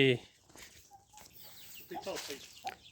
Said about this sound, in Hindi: ये देखो दोस्तों, ये छोटे बच्चे हैं ना मुर्गियों के, चूज़े जिसको बोलते हैं।